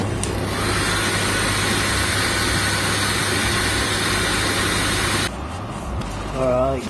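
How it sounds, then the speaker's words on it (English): A hairdryer heats the contact points of supports on a 3D printed sculpture, blowing as a loud, steady close whoosh for about five seconds, then cutting off as a voice begins. "a quick way to remove supports is to heat up the contact area with the hairdryer"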